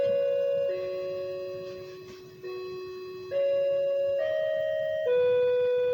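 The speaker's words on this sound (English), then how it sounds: "you hear the doorbell in the background" A multi-tone electronic doorbell chime plays a slow sequence of sustained notes, steady and moderately loud, with no talking.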